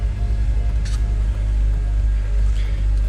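A car with just under 68,000 miles idling in the back of a garage before winter storage, a steady low engine rumble with a constant hum, close and loud, no talking.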